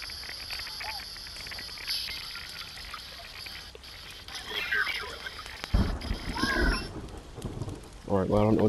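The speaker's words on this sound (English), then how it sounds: "but now it's raining" Rain falling steadily with rolling thunder in the survival video game The Forest, a continuous wash with low rumbles building toward the end, while a person talks over it.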